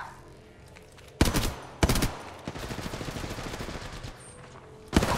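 Gunfire in the video game Apex Legends: sharp, loud shots at irregular intervals, including a rapid burst of automatic fire in the middle, with a final close shot at the end.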